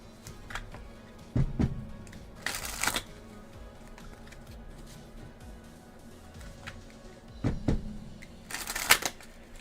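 Tarot cards are shuffled softly by hand in intermittent riffling bursts, with louder flurries near the start and toward the end, close and quiet with no one speaking.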